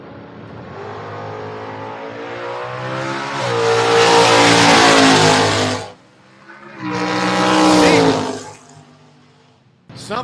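A Corvette and a Camaro launch at a drag race, with engines revving hard and rising in pitch in two strong surges separated by a brief drop. The sound is loud and close and stands alone.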